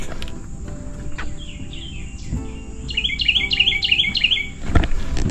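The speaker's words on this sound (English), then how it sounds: "There's a lot of birdies out here." Birds chirp and tweet near a beach boardwalk on a sea-shore island, with repeated bright call phrases that grow busier partway through over a soft outdoor background, no talking.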